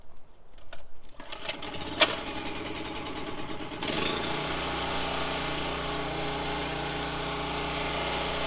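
A portable generator at a camp, started with its fuel kept off, gives a few rattling pull-cord tugs and sputters before it catches and settles into a steady, close mechanical hum with no talking.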